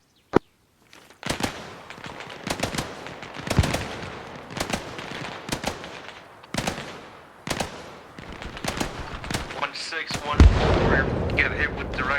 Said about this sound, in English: Get hit with direct artillery unknown if it was friend or foe.